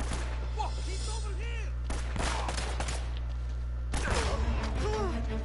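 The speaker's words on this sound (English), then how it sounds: "Where am I being shot from?" Gunfire in the video game Uncharted, loud bursts of shots and heavy impacts in clustered volleys with gaps between, over a low constant rumble and scattered pinging ricochets.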